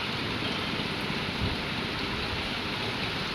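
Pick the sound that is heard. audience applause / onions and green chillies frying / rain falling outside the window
rain falling outside the window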